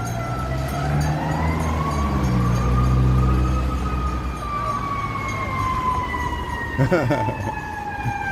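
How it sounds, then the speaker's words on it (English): An ambulance siren wails loudly as it passes close by on a Chicago street, its pitch sliding downward as it moves away, over steady traffic noise. "We'll get this ambulance going by here."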